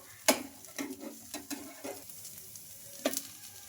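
Wheat flour rava dosa sizzling on a hot pan, a soft continuous fry hiss broken by a few sharp scrapes and clicks of a spatula, close up with no voices.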